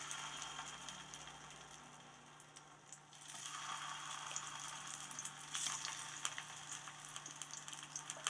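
Raw banana slices for varuval fry in hot oil. A soft, steady sizzle sits fairly far off and grows denser partway through, with faint crackles and no talk.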